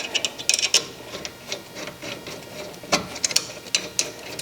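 A hand ratchet working loose a brake caliper bolt during a DIY brake pad replacement on a car, heard as close, irregular bursts of metallic clicking with short pauses between them and no talking.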